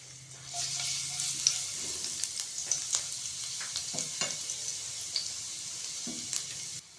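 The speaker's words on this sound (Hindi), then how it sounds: "2 table spoon vegetable oil add करेंगे और इसमें 1 चम्मच भर के फाइन चॉप किया हुआ गार्लिक ऐड कर देंगे" Finely chopped garlic sizzles steadily in hot vegetable oil, with soft scraping stirs and clicks over the constant hiss, close and fairly quiet.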